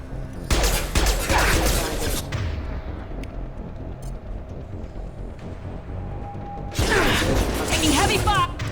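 Heavy gunfire in Mass Effect comes as two dense bursts of rapid shots, one near the start and one near the end, with mechanical clatter and quieter rumbling between them, moderately loud.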